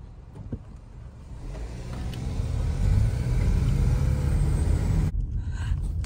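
A friend's car driving alongside on the road, a steady rolling engine and tyre rumble that swells slightly and holds close by, then cuts off sharply.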